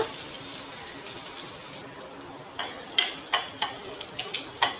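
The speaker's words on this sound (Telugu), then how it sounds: "ఒక్క ఉల్లిపాయ చిన్న ముక్కలుగా తరుక్కోవాలి ఇందులో వేస్తున్నాం కొంచెం వేగాలి" Finely chopped onion frying in a pan for vaamu pappu, a steady soft sizzle with a run of sharper stirring scrapes and taps in the second half.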